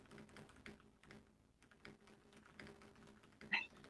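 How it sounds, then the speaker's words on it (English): Keys on a computer keyboard tap in quick irregular bursts, faint and close, with a couple of louder knocks near the end. "I can hear you typing."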